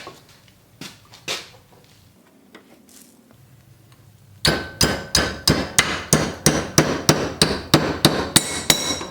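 A hammer strikes a 1/8 inch steel piece to bend its top into a small handle for a homemade firebox camp stove. It starts with a few scattered knocks, then comes a rapid, steady run of loud, close metallic blows.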